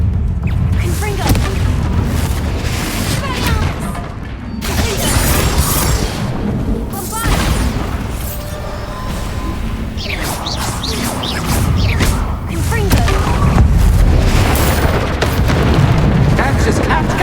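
Repeated booming blasts of the Confringo explosion spell in the Hogwarts Legacy video game ring out over a loud, dense mix of game effects and music, with a voice talking throughout.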